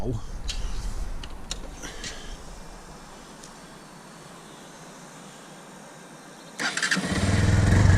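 A Sinnis Outlaw motorcycle started with its side stand down: a quiet stretch, then the starter catches and the engine fires near the end, rising into a close, steady running rumble.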